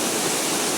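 A waterfall roars as a dense, steady broadband rush, loud and continuous through the whole short moment with no voices.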